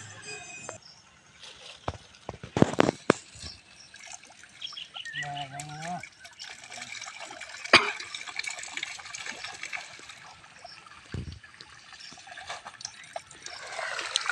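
Water gushes and splashes in intermittent bursts as small puti fish are released from a packet into a pond, with trickling in between, birds calling faintly and people talking throughout.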